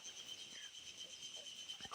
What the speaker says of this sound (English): The cicadas are stridulating in their melodious way.